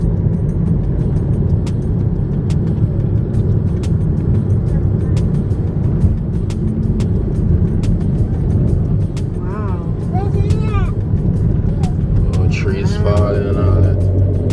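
A car driving along a red dirt road through Australian bushland, with a loud, steady engine and tyre rumble throughout, close and continuous, with voices talking briefly over it near the end.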